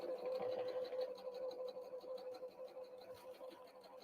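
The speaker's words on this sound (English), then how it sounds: "So I'm just going to sew straight right along there." A sewing machine runs a straight seam in a Christmas tree napkin, stitching in a steady continuous whir with a faint rhythmic pulse, fairly close, with no talking over it.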